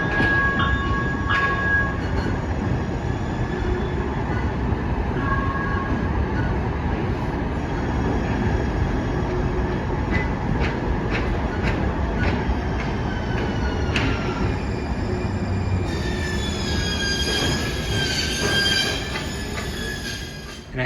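A Northstar commuter rail train in Minnesota runs along the tracks with a loud, steady rumble, wheels squealing and screeching in bursts, and a rising high whine toward the end, heard close without speech.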